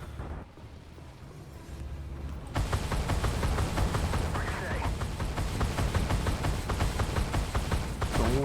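Tank gunfire in the video game Echoes of War, a dense loud barrage of repeated blasts and booms that starts abruptly and keeps rolling without pause.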